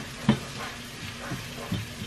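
Rice frying in a pan for white rice sizzles steadily up close, with a few soft stirring scrapes breaking through the constant crackle.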